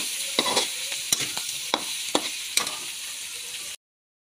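Boneless milkfish and tofu sauté with Chinese celery in a pan: a close, steady sizzle with sharp stirring clacks every half second or so, then an abrupt cut to silence.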